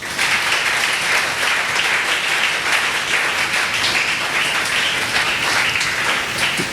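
A church congregation applauds loudly and continuously, dense clapping with a few cheers mixed in.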